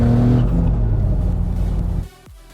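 Turbocharged 675 HP E36 BMW M3 with a deep, loud engine growl that holds for two seconds, then cuts off sharply, leaving a quieter idle-like rumble with a brief rising whine.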